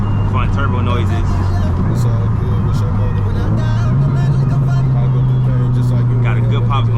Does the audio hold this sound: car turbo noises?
yes